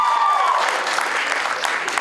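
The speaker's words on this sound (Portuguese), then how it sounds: "uma grande salva de palmas para elas, por favor" Audience clapping for a girls' debate team at a school rhetoric tournament semifinal, a short burst of dense, close applause filling the room.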